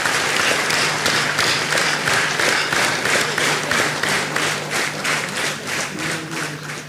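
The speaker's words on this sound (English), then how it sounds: "let us give a big round of applause to ISRO's all-women team of Chandrayaan" A large audience at a corporate annual general meeting applauds warmly, dense clapping that holds steady for several seconds, then gradually thins toward the end, with a faint low tone underneath.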